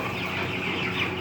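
Many chickens cluck at once at a meat-poultry farm, a dense, continuous nearby murmur of clucks with no talk.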